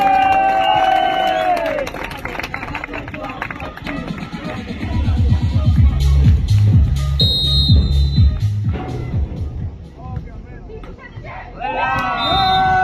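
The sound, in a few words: audience applauding and cheering at beach volleyball match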